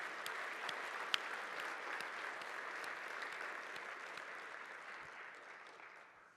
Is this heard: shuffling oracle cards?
no